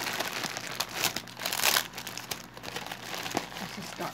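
Taped plastic mailing bag being peeled and pulled open, a run of close crinkling and crackling rustles with a sharper tearing burst midway, no talk over it.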